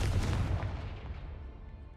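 A Bombarda spell blast in Hogwarts Legacy lands as a heavy, booming explosion. Its rumbling roar fills the opening moments, then fades away into a decaying tail.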